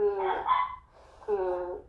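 A pet dog lets out two close, fairly loud bursts of barking and yelping, separated by a short pause.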